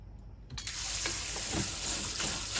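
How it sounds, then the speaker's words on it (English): Running tap water pours over white beans being rinsed in a sink, a steady close hiss that starts abruptly after a quiet moment and continues with small splashing variations. "just try to rinse off as much as possible"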